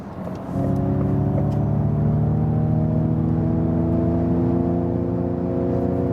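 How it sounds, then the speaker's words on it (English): Ford Mustang Mach-E accelerating hard in untamed mode, its electric sound generator producing a loud, steady synthetic hum of layered rising tones that swells in after half a second and carries on alone without talk. "you also heard this electric sound, this sound generator then"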